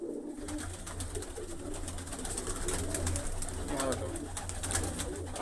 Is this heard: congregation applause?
no